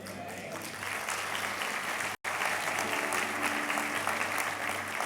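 An audience at a motivational talk breaks into steady, full applause, dense and even throughout with a brief cut near the middle.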